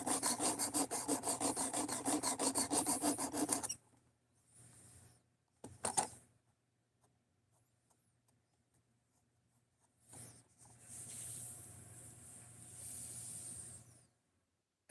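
Sanding by hand with 220 grit ceramic sandpaper: a dense burst of fast rhythmic scrubbing strokes at first, then quiet gaps broken by short scratchy rubs and one later stretch of softer sanding.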